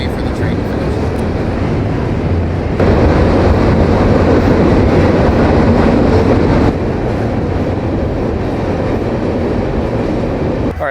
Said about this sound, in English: Wait for the train to finish.